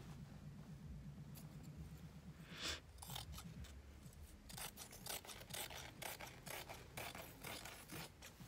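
Scissors cutting through kaftan fabric on a table, a quiet run of rasping snips and sliding cuts that come faster and more clipped toward the end, with no talking.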